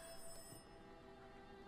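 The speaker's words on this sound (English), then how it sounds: "I hear a phone." A telephone rings in the horror video game Rise of Insanity, a faint, steady electronic ring sustained throughout amid quiet ambient background tones.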